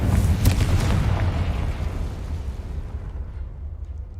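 A Confringo blasting spell detonates in the Hogwarts Legacy video game, one loud deep boom that rumbles and fades away over several seconds, with no speech.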